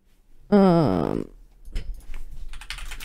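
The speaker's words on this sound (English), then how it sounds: "I'm already typing." Typing on a computer keyboard during a podcast about the game Just Dance, with a run of close, quick clicks in the second half after a brief, loud tonal whine.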